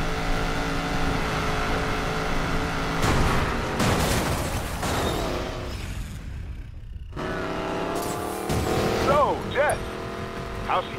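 Car engine racing in Need for Speed Payback, a loud continuous roar with surges and revving bursts, briefly cutting out before roaring back with rising whines.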